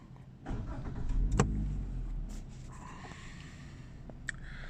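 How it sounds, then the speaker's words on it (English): Suzuki Ignis 1.2 Dualjet petrol engine cranked with a push start button, a short starter whir catching into a low idle that settles quieter, heard close from inside the car with no talk. "engine stop start button, which we will now start."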